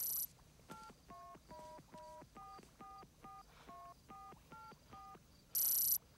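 A telephone dials a number with a brisk run of about a dozen distinct touch-tone beeps at an even rhythm, followed by a louder sustained tone. The sound is clear and close, with no talking.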